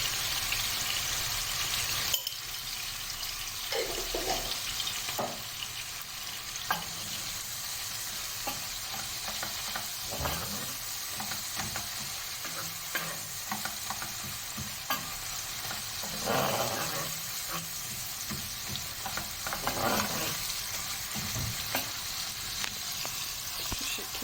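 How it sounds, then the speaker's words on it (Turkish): Minced meat with ground paprika fries in a pan, giving a steady loud sizzle throughout while a spoon scrapes and stirs with scattered knocks and scrapes. "Şimdi salçamı koyacağım"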